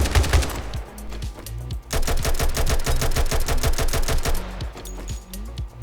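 Rapid automatic Tec-9 gunfire in the 7 Days to Die video game, close and loud bursts of sharp shots with a short pause, then another long burst.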